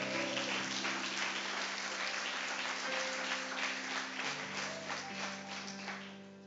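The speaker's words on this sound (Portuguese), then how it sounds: "Você pode aplaudir o Senhor, amém?" Church congregation applauding during a worship service, a steady dense wash of clapping from many hands that holds loud throughout, with a low sustained organ or keyboard tone underneath and tapering slightly at the end.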